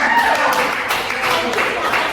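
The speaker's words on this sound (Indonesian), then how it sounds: "Berikan tepuk tangan kepada kita semua." A classroom of students claps briefly, a short burst of scattered, close applause with some voices mixed in.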